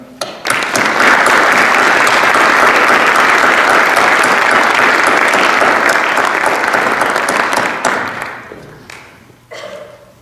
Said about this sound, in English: Please join me in welcoming Frederick D. McClure.